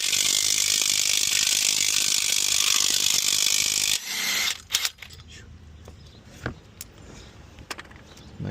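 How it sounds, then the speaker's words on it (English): A ratchet loosens the crank bolt on a Ford Explorer 2.0 engine, with a fast, loud continuous clicking for about four seconds, followed by scattered metallic clunks and handling noises. "Now all I have to do is just get this crank bolt out."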